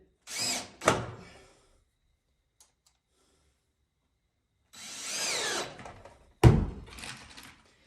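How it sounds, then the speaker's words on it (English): A power drill drives three screws into a plastic washer outlet box for a drain and vent system, with two short loud whirring bursts near the start and two more later, separated by quiet gaps. "We're going to run 3 screws in it."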